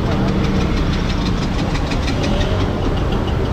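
Overheating Bajaj NS200 motorcycle engine, a loud close mechanical clatter and knock running continuously at a steady idle-like pace, with no speech over it.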